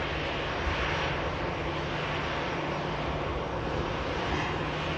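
An EasyJet airliner arriving at Manchester Airport gives a loud, unbroken jet-engine roar that holds steady throughout, with no voices.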